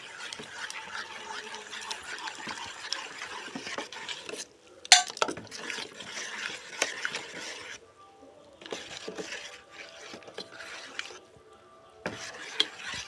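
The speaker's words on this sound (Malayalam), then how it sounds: "കുറേശ്ശെ ഒഴിച്ചിട്ട് ഇളക്കിക്കൊണ്ടിരിക്കുക" Rice batter stirred with hot jaggery syrup gives close, irregular scraping and clinking of a spoon against a pot, in bursts with short quiet pauses.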